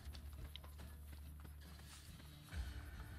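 Horse hooves clip-clopping in the Assassin's Creed Brotherhood video game, a faint steady trotting rhythm under quiet game ambience, with a soft thump near the end.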